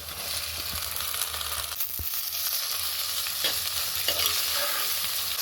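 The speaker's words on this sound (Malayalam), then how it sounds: "നമുക്ക് ഇതിലേക്ക് കുറച്ച് ഉള്ളി ഇടാം. നന്നായി ഇളക്കുക." Onions and chopped tomatoes being stirred as they fry in a pan for a Kerala prawn curry: a continuous sizzle with repeated spatula scrapes and one sharp knock, no talking.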